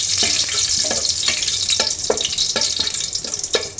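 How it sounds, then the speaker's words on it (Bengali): Cinnamon sticks, cardamom pods and bay leaves fry in hot oil with a steady bright sizzle, punctuated by several stirring scrapes at a regular pace, close by and with no voices. "ভালো করে একটু ভেজে নেব।"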